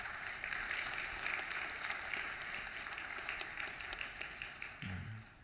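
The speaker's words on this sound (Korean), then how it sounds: "격려의 박수 한번 보내주면 좋겠습니다" A steady wash of clapping from a church congregation at a youth worship service, moderately loud and sustained throughout, with no voices breaking through.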